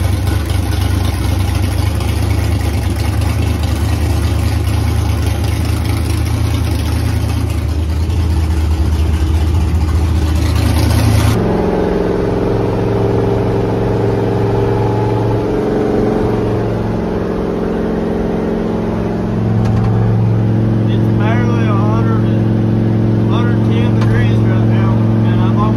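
The engine of a Chevy S10 race truck with an LS swap idles with a steady, deep drone, loud and near, shifting to a lower, smoother tone partway through, with background noise throughout.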